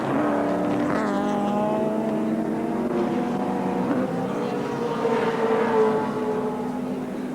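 Group C touring cars from the 1984 ATCC at Wanneroo Raceway, including a Mazda RX-7 and a Holden Commodore, race past with a sustained, loud engine drone that rises and falls in pitch as the cars accelerate down the straight.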